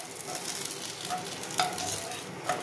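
Dhoka lentil cakes fry in hot oil with a steady, close sizzle while they are stirred and turned, and a couple of brief scraping clinks from the utensil.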